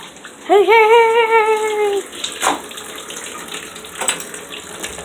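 Water running from a tap into a sink or tub to wash plush toys: a brief rising squeal as the flow starts, then a moderate, steady stream with a couple of splashy bursts, close by and without speech.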